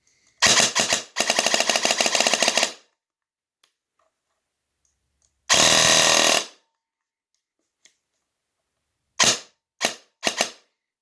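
A Krytac Vector airsoft gun set up for DSG fires close and loud, starting with a long rapid burst, then a shorter burst, then three quick bursts at the end, with near silence between them.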